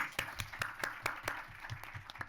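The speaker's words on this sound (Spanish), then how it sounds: "Un aplauso." At a round-table event, scattered audience applause breaks out as a series of distinct, fairly faint claps at a quick, uneven rhythm.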